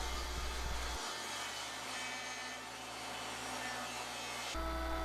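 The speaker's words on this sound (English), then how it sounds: "We'll resaw our 19-inch piece to make the 2 sideboards." A saw resaws a 19-inch length of 2x4 lumber into two thin sideboards, a steady grinding, rasping cut that runs continuously for several seconds, loud and close, with a worn blade.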